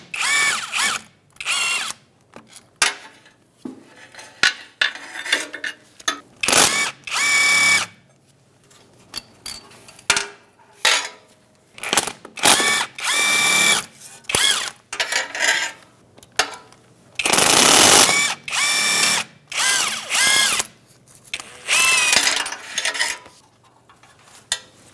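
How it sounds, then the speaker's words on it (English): A 10mm socket ratchet loosening bolts on the CV joint of a 2007-2017 Ford Expedition, loud bursts of rapid clicking and metallic ratcheting in irregular runs, separated by short pauses and occasional tool clinks. "Now we're going to remove the other end using a 10mm socket as well."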